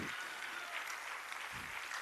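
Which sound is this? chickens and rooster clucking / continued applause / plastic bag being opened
continued applause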